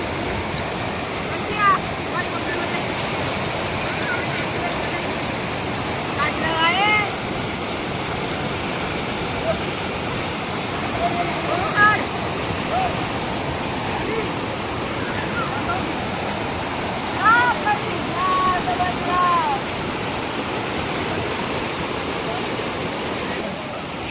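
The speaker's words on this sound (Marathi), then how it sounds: "पाण्याचा धूप खूप मोठा आणि पाणी पण खूप मोठं आहे इथे." A stream rushes at a Konkan bathing spot in a broad, steady roar of water that holds for the whole stretch, with faint voices and birdlike chirps now and then over the flow.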